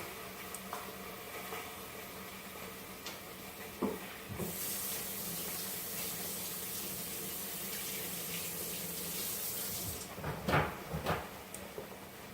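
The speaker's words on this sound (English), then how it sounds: "Now I'm going to add the water." Water is poured into an Instant Pot holding raw chicken for bone broth, a steady rushing splash running for several seconds with a few clunks and handling knocks near the start and end.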